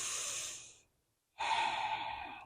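Slow, deep breathing during yoga practice: a long airy exhale, a brief silent pause, then another full breath, close and clear with no talking.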